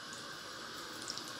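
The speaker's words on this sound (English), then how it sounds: "Basically I just turn the water on" A water tap runs steadily into a sink while makeup brushes are being washed, a soft continuous hiss with no other sounds.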